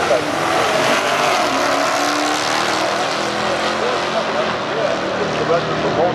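Mopar car passing during a drag race, a loud continuous engine roar filling the whole stretch, with voices talking underneath.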